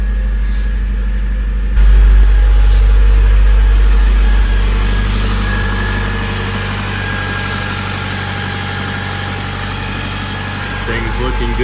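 An old 38-year-old car engine running at a steady high idle, a continuous low mechanical rumble with a slight rise in level early on, heard up close with a person talking over it.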